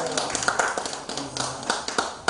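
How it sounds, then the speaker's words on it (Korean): A burst of scattered clapping from a small church congregation, uneven and lively, with some voices mixed in. "우리 박수 한번."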